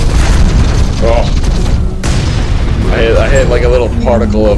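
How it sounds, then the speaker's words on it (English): A heat cannon blast in the mech combat game Hawken lands as a loud booming, explosive hit. Heavy low rumble and game effects run underneath, with short bursts of voice chatter. "I wasn't able to hit you with that last heat cannon blast."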